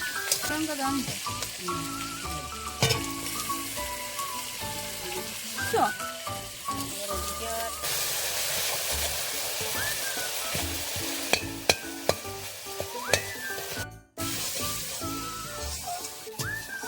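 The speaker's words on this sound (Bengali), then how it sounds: "পেঁয়াজ আদা রসুন বাটা কাঁচা লঙ্কা টমেটোটা কড়াইতে দিয়ে ভালো করে ভাজতে লাগলো" Onion, ginger-garlic paste, green chili and tomato fry in hot oil with bay leaf in a wok for a mutton dish, a continuous loud sizzle with clattering stirring strokes throughout.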